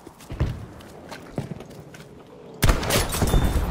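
A Kar98 sniper rifle fires without a scope in Battlefield V on the Twisted Steel map in France, a sudden loud blast near the end that follows quieter in-game shuffling and footsteps, with no talk.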